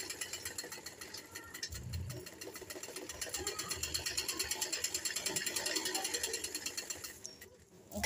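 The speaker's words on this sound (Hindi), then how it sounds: "हमने इसी तरह इसमें 2 बार सिलाई लगानी है।" Close sewing machine stitching a suit, its fast rhythmic needle clatter running continuously, briefly slowing near the start and stopping toward the end.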